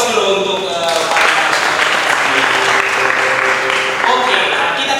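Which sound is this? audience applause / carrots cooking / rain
audience applause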